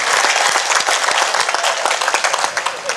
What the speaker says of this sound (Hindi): आशीर्वाद की तालियां भी मंच तक पहुंचा